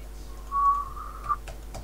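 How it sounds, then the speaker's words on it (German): A single drawn-out whistled tone, steady and mid-pitched with a slight lift at the end, sounds alone over a faint hum during a World of Warcraft play session. "Es war ein trauriger Pfeifton"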